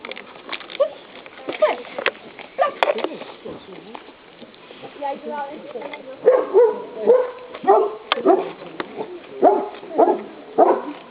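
Repeated short dog barks in a steady rhythm over the second half, with a person's voice and obedience commands like stop or sit mixed in earlier, fairly close.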